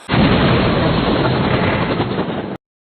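A loud rumbling blast from a giant explosion and fire in the video game Chicken Gun 2 roars steadily for a couple of seconds, then cuts off abruptly into silence.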